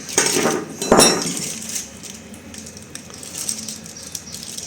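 Knife cutting into a baked jacket potato on a plate, with sharp clinks and scrapes of metal on crockery early on, then quieter handling sounds. No talking.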